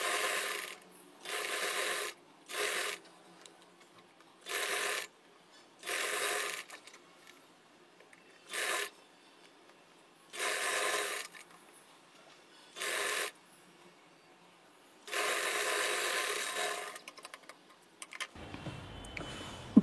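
Sewing machine top stitching a star-shaped neckline on a blouse, a quarter-inch margin from the edge. The mechanical needle clatter comes in repeated bursts of one to two seconds with short pauses between, close and alone.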